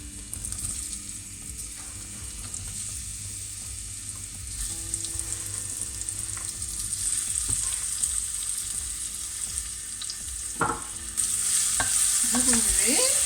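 Summer vegetables for a tart sizzle in hot oil in a saucepan and are stirred, giving a steady close frying hiss with scraping and clinking of the utensil against the pan, and the sizzle swells louder near the end.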